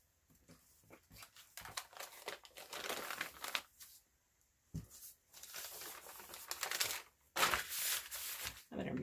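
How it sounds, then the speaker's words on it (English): Scissors snipping and rustling through excess fabric on a craft table, a run of close crinkly cuts and paper-like handling noises in uneven bursts with short pauses between. "Let's cut off the excess first."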